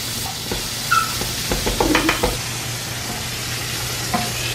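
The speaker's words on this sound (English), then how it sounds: "That's what I'm doing, is frying the peppers." Steady sizzling and hissing of peppers frying in a hot pan, with a few stirring scrapes and clinks of a utensil.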